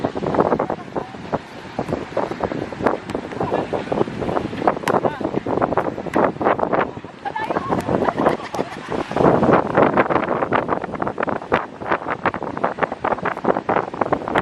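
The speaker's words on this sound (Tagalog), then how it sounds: "Ganyan yung alon mo." Rough ocean surf at Al Mamzar Beach in Dubai under a red flag, waves washing in steadily amid heavy buffeting wind noise on the microphone, with people talking nearby.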